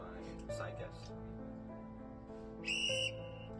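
A sharp whistle blast sounds briefly near the end, shrill and clear over a low tonal background, with a softer whistle-like tone earlier.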